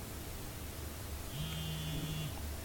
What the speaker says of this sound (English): that is the sound of the vibrating watch